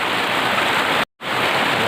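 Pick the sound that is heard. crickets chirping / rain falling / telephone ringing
rain falling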